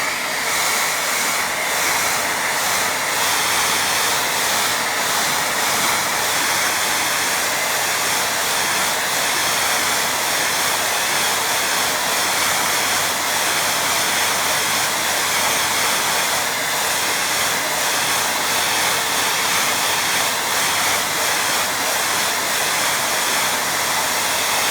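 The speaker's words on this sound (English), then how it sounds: "give that another blast with dryer." A hair dryer blows steadily on a watercolour painting of a beach fishing scene, giving a loud continuous airy whoosh that runs unbroken for the whole stretch with no talking.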